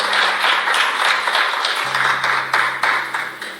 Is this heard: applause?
yes